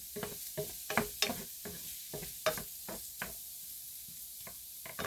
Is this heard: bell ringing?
no